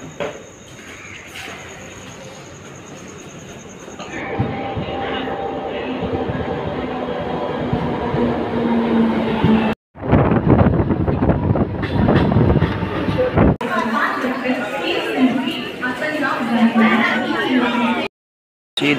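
A train at Dadar railway station in Mumbai, a steady rumbling rail roar with wind noise, broken by brief cuts and abrupt changes in level, with people talking throughout.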